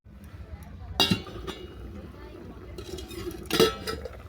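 A dish is set over a pan of carrot and broccoli vegetables, giving two clear clinks of crockery on metal about two and a half seconds apart over a low kitchen background.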